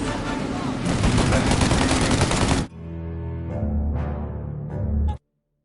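Dense, rapid gunfire crackles in a shootout in the video game Mafia: Definitive Edition, a continuous loud barrage that breaks off abruptly, followed by a few scattered shots before cutting to silence.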